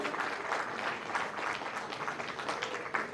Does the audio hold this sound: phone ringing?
no